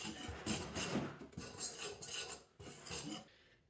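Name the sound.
mixing two flours in a bowl for yeast waffles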